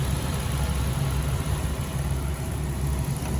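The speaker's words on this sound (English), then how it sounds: "Let's go ahead and give that a listen." A 2019 Ram 1500 Classic pickup with the 3.6-liter engine idles with a steady, even low hum and a smooth mechanical drone, heard up close with no talking.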